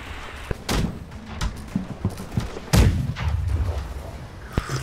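Ship cannons fire in the Blackwake naval combat game: several heavy booming shots at irregular intervals, with a strong blast near the middle and rumbling battle noise between them.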